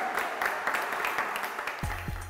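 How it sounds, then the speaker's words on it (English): Scattered applause from an audience at a Swimathon event rattles on for a couple of seconds, fairly steady, with a low thump near the end. "let's have a round of applause for Marie Curie Cancer Care before we get going"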